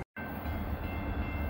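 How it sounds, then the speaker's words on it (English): A steel coil freight train climbs the steep grade on the Rat Hole, producing a heavy, continuous rumble with a steady tonal drone. It is loud and close throughout, and no voices are heard. "Guess what's coming up the hill? Steel coil train."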